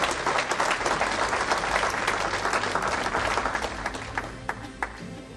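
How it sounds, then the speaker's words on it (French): A village crowd at a mayor's New Year address in Saint-Martin-de-Hinx applauds the participants, a thick sustained burst of clapping that gradually thins and softens toward the end, leaving a few scattered claps. "je pense qu'il faut les applaudir à tous ces participants."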